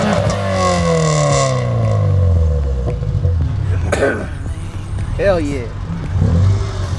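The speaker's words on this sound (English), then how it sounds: "rev it a good one for us" A Subaru car engine revs hard, its pitch sweeping up and down loudly and close, while people talk and cheer over it outdoors.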